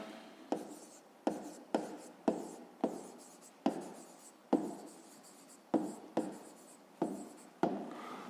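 A pen writes a math answer on paper in close, quiet scratching strokes, about a dozen short bursts separated by brief pauses.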